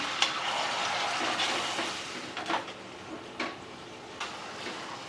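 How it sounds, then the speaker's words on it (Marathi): Chicken kheema masala with yogurt and spices sautéing in a pan gives a soft, steady sizzle, broken by a few sharper clicks and scrapes of stirring. "आता परतून घेऊया आपण"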